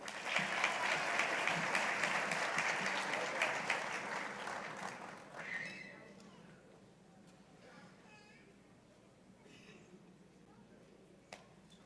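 Audience applause at a sheriff's office promotions ceremony, a crowd clapping steadily and loudly for about five seconds before tapering off into quieter room murmur with a few scattered claps and brief voices.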